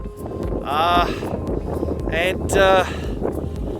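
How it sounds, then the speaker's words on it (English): Wind gusting at just over 2,000 meters above sea level, a broad steady rush with microphone buffeting throughout, while someone talks over it. "bit windy."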